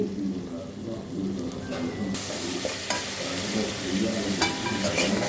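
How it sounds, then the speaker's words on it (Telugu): Turmeric and salt being stirred into a Telangana fish curry, a steady frying sizzle with scraping stirs throughout, close and fairly loud. "పసుపు పసుపు వేసి కలుపుకోవాలండి"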